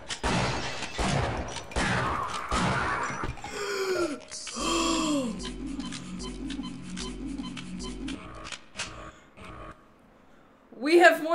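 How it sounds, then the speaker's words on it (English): Shotgun fire in the Half-Life video game: a series of loud, sharp blasts spread over several seconds, mixed with grunts and game voices and followed by quieter moments. "I'm gonna have to shotgun this guy."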